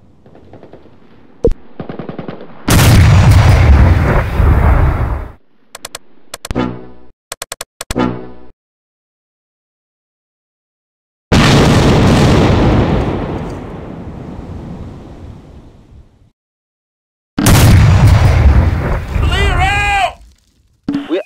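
Close Combat wartime battle at Abbaye d'Ardenne, with loud machine-gun bursts and heavy artillery blasts arriving in separate waves broken by short silences, plus brief radio-style voice callouts.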